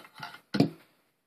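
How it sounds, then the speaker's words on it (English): Trigger guard and magazine being pulled from a Mosin Nagant rifle, two short metallic clunks and scrapes, close and distinct, followed by silence. "And then you can pull your trigger guard and magazine out."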